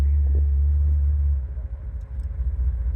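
A car without power steering accelerates through a turn, its loud, close low engine rumble steady at first, then rising and roughening as the throttle opens.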